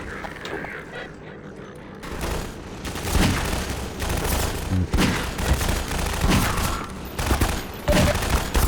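Gunfire in the video game Half-Life 2: Lost Coast rattles in loud, rapid bursts over a busy layer of combat noise and rumble, continuing on and off to the end.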